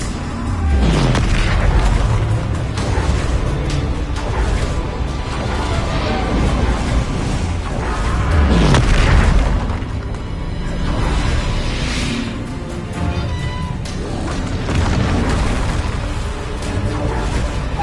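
Repeated booming blasts from the Bombarda explosion spell in a Hogwarts video game, loud and dense, with heavy low rumbles and whooshing swells that roll on continuously for the whole stretch.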